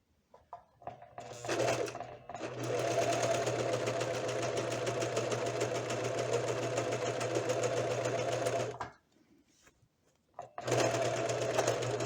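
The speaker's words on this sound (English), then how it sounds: "Now I'm gonna serge on both sides that I connected on the sides." A serger sewing machine runs in long, fast bursts while stitching fabric seams for shorts, with a steady mechanical whir, brief pauses between runs, and a final burst starting up again.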